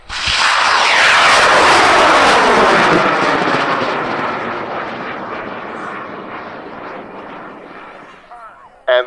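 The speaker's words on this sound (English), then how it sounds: "It's a 17-pound rocket flying on a K570." A 17-pound high power rocket lifts off on a K570 motor at a large launch event, starting with a loud, sustained roaring rush that slowly thins and fades as it climbs away, ending with a brief voice.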